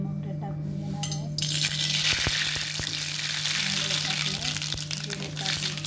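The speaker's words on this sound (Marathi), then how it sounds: "आता मी जिरे मोहरी टाकून घेणार आहे।" Cumin and mustard seeds dropped into hot oil in a kadhai, a sudden bright crackling sizzle that starts after a second and holds steady with scattered sharp pops.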